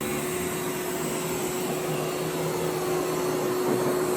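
Ecovacs Deebot X2 Omni robot vacuum running on its maximum Max Plus suction setting at 8000 Pa, a loud, steady whirring hum with a constant whine, close by and unbroken throughout.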